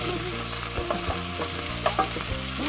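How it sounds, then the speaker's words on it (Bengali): Chopped tomato hits hot oil in a frying pan for Bengali-style mixed dal, giving a steady close sizzle with a few stirring scrapes, with no talk over it. "এবার আমি টমেটো কুচিটা দিয়ে দিই"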